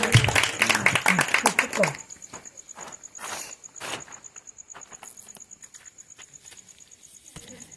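Hands clapping at a child's birthday celebration, a loud burst of applause at first, then thinning to scattered claps, with faint insect-like chirping and voices in the background.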